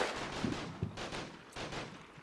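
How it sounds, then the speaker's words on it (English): A machine gun fires in rapid bursts during a WW2 battle in northern Sicily in the Combat Mission: Fortress Italy war game, dense and fairly loud with overlapping distant gunfire. "Look at that MG firing away, man."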